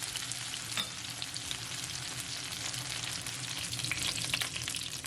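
Chicken wings sear in a pan for a sticky Chinese-style wing dish, giving a steady, dense sizzle and crackle that runs unbroken and fairly loud throughout, with no talking.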